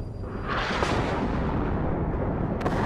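Gunfire and artillery booms in the WARNO real-time strategy game, a dense, continuous roar of overlapping blasts that holds steady throughout, with one sharper crack near the end.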